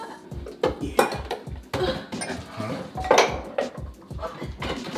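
Dishes and pots being washed in a sink, with dense clinking and clattering of crockery and cutlery, sharp knocks and running scrapes, close and busy throughout.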